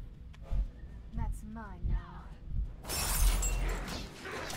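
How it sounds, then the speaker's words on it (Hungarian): A shield shattering in the fantasy action game Hunted: The Demon's Forge, a bright crash of breaking that follows game sounds, with game voices heard before it. "Eltörted a pajzsomat,"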